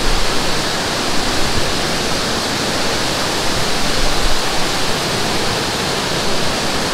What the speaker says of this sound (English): I'm standing right below the waterfall here.